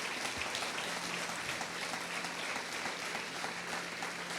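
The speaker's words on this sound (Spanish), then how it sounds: "Denle el aplauso a la iglesia" A church congregation applauds steadily, a dense, even wash of clapping that stays faint and distant throughout, with no voices standing out.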